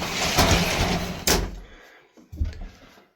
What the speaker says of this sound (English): Another small improvement inside is this concertina door that I put in the